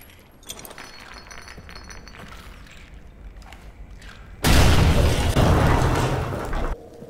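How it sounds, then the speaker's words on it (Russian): Explosion in the horror game Amnesia: The Bunker: a sudden loud, dense blast erupts midway after quiet ambient rumbling and clinks, sustaining a roaring wash for about two seconds before cutting off. "Так, давай я вот эту взорву."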